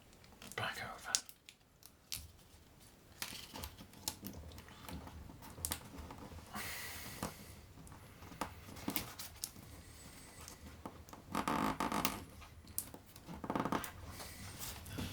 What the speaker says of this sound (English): Good idea to just use your nail to make that fold quite permanent.